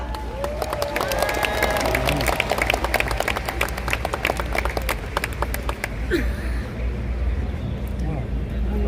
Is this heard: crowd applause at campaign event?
yes